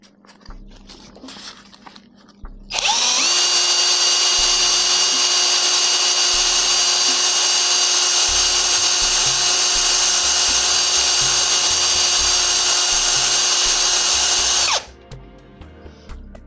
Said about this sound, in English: You're just gonna use that drill to run it into your sandpaper